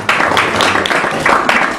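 Crowd of audience members clapping together at a live photo-or-painting guessing show, a busy sustained patter of hands lasting under two seconds, fairly loud and even.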